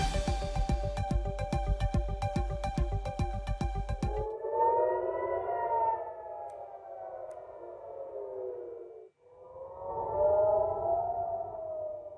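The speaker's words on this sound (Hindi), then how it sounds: "हाइफा में तो हमले के अलर्ट का सायरन बजा" An air raid alert siren wails in Haifa, its loud rising-and-falling tone sweeping slowly and dipping briefly before climbing again, after an opening stretch of rapid pulsing tones.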